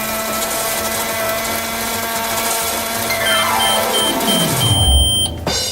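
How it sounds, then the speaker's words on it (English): A toy pretend-play magic microwave runs after its buttons are pressed, giving a loud steady electronic whir with a sweeping tone that dives downward near the end before stopping abruptly, no voices. "We'll put Zuma in the magic microwave"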